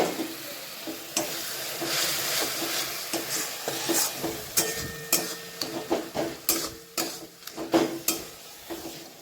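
Cumin powder masala sizzles in a pan for a Bengali chicken curry as a little water goes in, a bright frying hiss broken by repeated close scrapes and taps of stirring.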